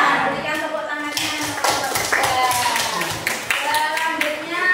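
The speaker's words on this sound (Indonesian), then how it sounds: "Berikan tepuk tangannya" A classroom of students claps for a group presenter after a greeting, the dense, uneven applause running steadily throughout with brief voices and shuffling mixed in.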